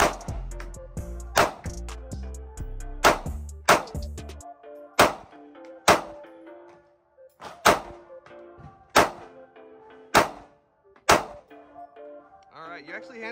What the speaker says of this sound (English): we're gonna run some more rounds through it and we'll see